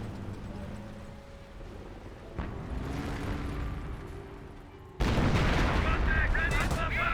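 Artillery barrages land in the World War II strategy game Company of Heroes 1, with distant rumbling blasts that give way to a sudden, much louder burst of close explosions and crackling fire.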